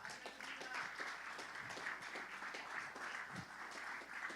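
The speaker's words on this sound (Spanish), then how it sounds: "Un aplauso, Señor" Church congregation applauding during a sermon, a steady wash of many hands clapping at moderate, fairly distant level, with faint voice traces underneath.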